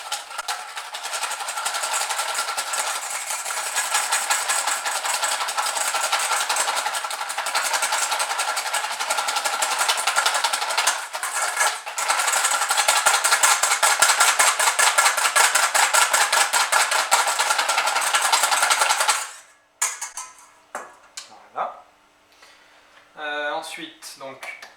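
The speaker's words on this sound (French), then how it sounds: "il faut fouetter de suite parce que sinon le sucre, en fait, il brûle le jaune d'œuf" Egg yolks being whisked with sugar for pancake batter, a steady fast scraping rattle of the whisk against the bowl that runs for about twenty seconds, then stops, leaving a few brief clinks and handling noises.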